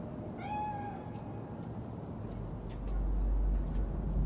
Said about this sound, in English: It is a cat spirit.